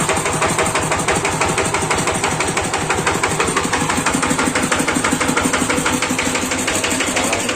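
A loud diesel tractor engine idles steadily nearby, its rapid, even thumping pulse continuous throughout with no voices.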